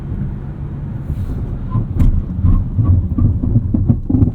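A 2019 Mazda CX-5 Signature Turbo accelerating hard from a standstill to 60 mph, a steady loud low engine and road rumble heard from inside the cabin that swells in bursts as it pulls, with no talking.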